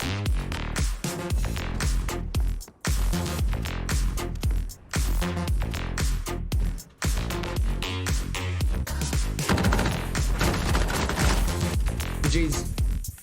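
Rapid, sustained automatic gunfire from a high fire-rate weapon in the shooter game The Cycle: Frontier, loud and punchy, firing in long bursts broken by brief pauses over more than ten seconds.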